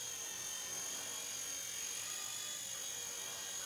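Blade Nano S2 radio-controlled micro helicopter hovering indoors in a home, a steady high-pitched rotor and motor whine with a faint, even hiss throughout, quiet and continuous with no talking.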